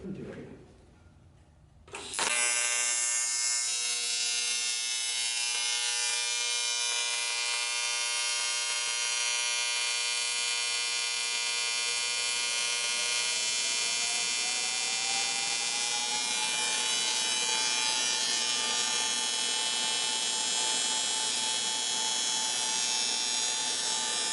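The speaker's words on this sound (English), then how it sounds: "how good does it TIG weld on AC" An ESAB Rebel 205 welder running AC TIG after a brief quiet start: a steady, loud, buzzing hum with dense harmonics holds unbroken for over twenty seconds, alone without talk.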